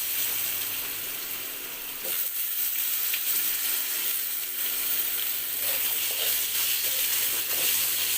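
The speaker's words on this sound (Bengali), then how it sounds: "বেগুন উঠিয়ে নিয়েছি এবার দিয়ে দিচ্ছি আলুগুলো" Potatoes frying in hot oil in the same pan just used for eggplant, a continuous bright sizzling hiss with a few faint clinks and scrapes, steady and fairly close throughout.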